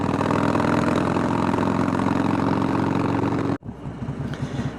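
A motorcycle engine runs steadily with a constant rumbling note, loud and close, then cuts out abruptly and restarts at a rougher, lower idle near the end.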